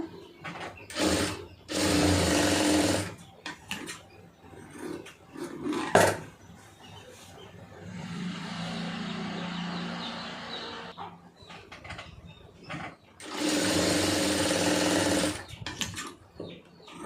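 Sewing machine stitching piping onto fabric, in three bursts of rapid whirring, the first and last loud and the middle one softer, separated by quiet handling sounds.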